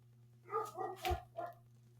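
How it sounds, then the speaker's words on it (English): A dog barks a few times in a quick cluster, moderately distant, over a steady low electrical hum. "Stupid dog barking."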